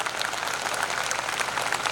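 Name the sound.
audience applause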